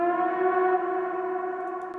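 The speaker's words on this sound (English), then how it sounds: "I took the lead from the drop actually and made it an audio. I put a lot of reverb on it and filter to close the high frequencies." A synth lead taken from a track's drop and reworked as an effect, with heavy reverb and a filter cutting the highs. It plays as a sustained, steady harmonic tone with a siren-like, washed-out character and no talking.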